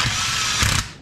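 A ratchet wrench snugs up motor bolts on a Yamaha Banshee engine during assembly, giving a short burst of rapid clicking that lasts about a second with a slightly louder catch near the end.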